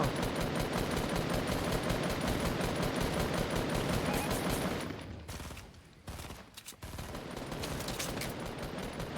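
Sustained automatic gunfire in a multiplayer shooter game, a loud continuous rattling burst that drops off briefly, then resumes at a slightly lower level.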